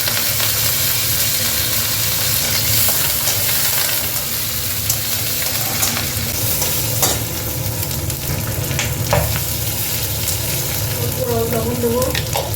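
Black mustard seeds, green chilies and curry leaves sizzle loudly in hot oil for a homemade dhokla tempering, a dense, steady crackle with scattered pops and stirring throughout.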